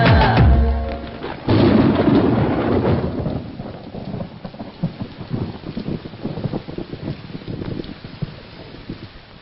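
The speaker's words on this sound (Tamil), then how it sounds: "மழை பயங்கரமா போயிது உள்ளவா." Heavy rain pours down and thunder rumbles loudly at first, then the steady downpour continues with dense pattering drops.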